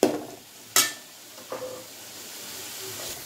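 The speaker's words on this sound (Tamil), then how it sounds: "இப்போ தக்காளியை நல்லா வதக்கிட்டு பாருங்கள்." Tomatoes are sautéed in a pan over a raised flame for a large batch of wedding-style chana masala, with a soft steady sizzle broken by a few sharp stirring clinks and scrapes.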